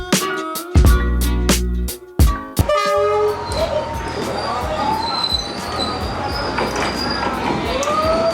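A train passes along Train Street in Vietnam, opening with a series of loud horn blasts, then rolling wheels and rumbling carriages with squeals, close by and loud.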